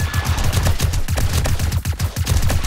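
Rapid, loud automatic gunfire in 7 Days to Die, a steady stream of shots fired at a screamer zombie, continuous for the whole stretch with no speech over it.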